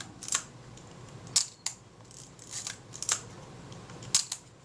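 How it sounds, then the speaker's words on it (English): Retina IIIc camera shutter released several times on a workbench during repair, sharp close mechanical clicks spaced irregularly over a faint background hiss. "And the shutter releases"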